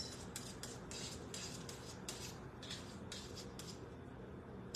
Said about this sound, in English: So now let's get back to stirring up this.